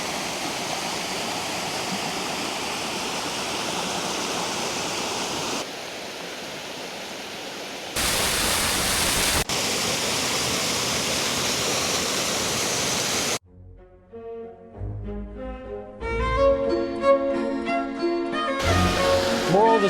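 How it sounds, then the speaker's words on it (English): Staubbach Falls in Lauterbrunnen, Switzerland, roars as a steady broadband rush of falling water, loud and continuous for about thirteen seconds before giving way to other sounds. "And then the waterfall breaks off just over there."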